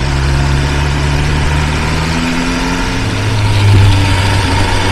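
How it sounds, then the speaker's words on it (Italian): A BMW S 1000 R motorcycle's 165-horsepower inline-four engine with its stock exhaust, running steadily with a low harmonic drone, then rising in pitch as it is revved near the end; loud and close, with no talking. "il sound sopra i 5000 è veramente bello, da 4 cilindri vero in linea"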